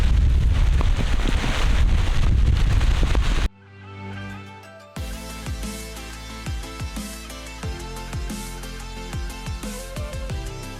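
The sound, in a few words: storm wind on a sailing boat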